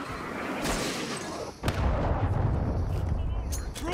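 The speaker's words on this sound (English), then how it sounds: "Hostile cruise missile launched." A cruise missile strike in Call of Duty: Modern Warfare II lands in a heavy rumbling barrage, with one sharp blast near the middle followed by sustained roaring explosions and debris.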